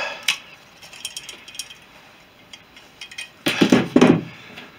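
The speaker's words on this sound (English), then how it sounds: "Form the rivet." Forming a rivet on an aircraft aileron control rod gives a few light metallic clicks and taps, then a louder burst of close clanks near the end.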